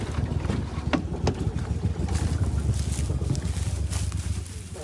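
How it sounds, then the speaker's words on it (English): Steady low motor drone with wind buffeting and rushing water from a small boat riding through a Louisiana swamp, continuous throughout. "Right now we're still riding around on the boat"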